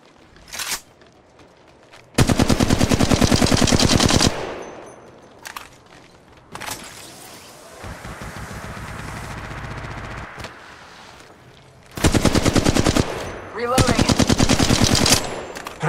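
Bursts of automatic gunfire from an Apex Legends battle royale match, with two long loud rapid-fire volleys separated by quieter stretches of scattered shots and movement.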